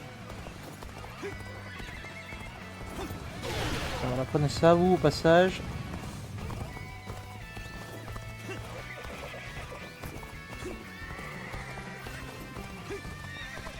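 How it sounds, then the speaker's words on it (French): A horse gallops and neighs in the video game Dynasty Warriors Origins, with clip-clop hooves and a loud whinny around the middle, while someone talks over the game audio. "on va prendre le cheval et on va y aller vite"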